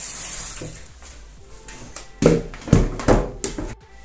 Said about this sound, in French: Je vais verser l'eau froide dessus.